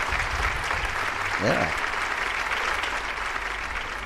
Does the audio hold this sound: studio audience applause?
yes